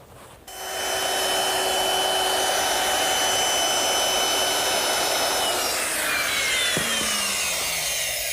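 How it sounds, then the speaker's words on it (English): A woodworking router fitted with a half-inch radius round-over bit easing the edges of a wooden shelf, a steady loud high-pitched whine running continuously, with a brief pitch shift near the end as the cut finishes. "I'm using a 1/2 inch radius round over bit just to ease the edges of the shelf"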